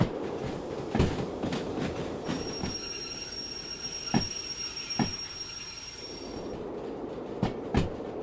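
Locomotive in the train simulator game Derail Valley rolls along rails with rhythmic wheel clicks over joints and a high squeal from the wheels midway, heard at moderate level with no speech.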